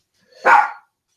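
A dog gives one short, close bark, loud and alone against an otherwise silent room.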